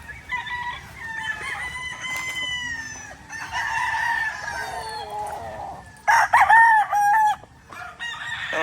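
A Boston Millionaire gamefowl rooster crows several times in close succession, loud and near, with other fowl clucking and crowing around it on a farm.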